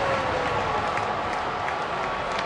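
Sellout baseball stadium crowd of over 38,000 cheering and applauding in a broad, continuous roar, steady and distant-sounding without distinct individual claps.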